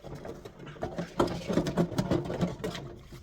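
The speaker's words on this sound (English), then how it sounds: "So I'm cleaning it down with the sponge." Rhythmic scrubbing of a greasy pan with a sponge, a steady series of close, rough strokes repeating back and forth with no talking.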